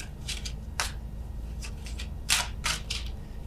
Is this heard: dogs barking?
no